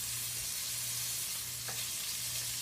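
Steak frying in a pan gives a steady, dense sizzle that fills the whole stretch without a break, with a faint low hum underneath and one brief tap near the end.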